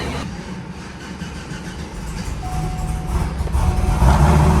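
Cadillac CTS-V Gen 2 with a ported supercharger idles and rumbles steadily, a deep low drone that builds slightly louder toward the end, with a faint whine on top.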